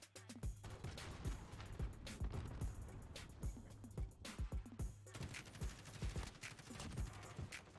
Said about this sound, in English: I got hit with an LMG